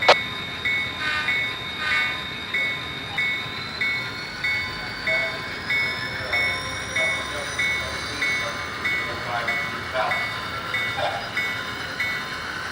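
An HO scale DCC model train runs steadily on a layout, giving a regular rhythmic click as it rolls along the track, with a sustained high whistle-like tone over a soft rumble.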